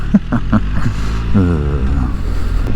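A BMW R1300 GSA motorcycle accelerates hard in third gear to overtake on a greasy, muddy road. The engine drones loud and close, with its tone rising as it pulls.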